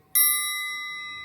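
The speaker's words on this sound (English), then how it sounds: "a triangle is played with a small metallic beater, okay? And we literally just tap it one time" A percussion triangle struck once with a small metal beater gives a sharp attack and then a long, bright, high ringing tone that fades slowly, heard alone and close.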